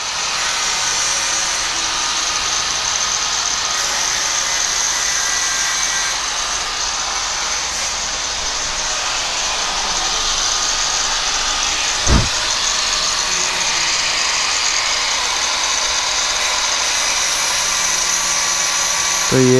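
Angle grinder cutting on a Yamaha R15 motorcycle, a steady loud high-pitched whine sustained throughout with a brief sharp knock near the middle.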